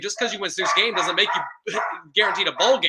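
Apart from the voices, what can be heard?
dog barking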